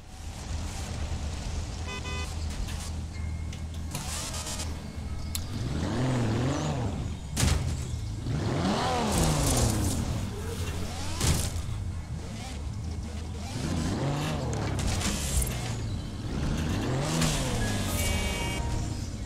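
A BMW Z3 roadster engine in Forza Horizon 4 revs repeatedly during a roadster convoy meet, with rising and falling pitch sweeps close up. Voices talk throughout.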